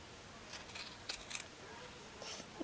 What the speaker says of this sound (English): Snip right there.